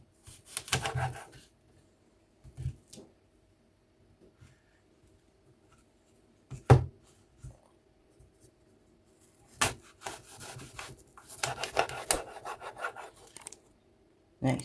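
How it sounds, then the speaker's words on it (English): Knife cutting apples into quarters on a board, scattered bursts of scraping and chopping with long quiet gaps, a dense rasping cluster near the end. "First I'm going to be starting off with cutting up the apples."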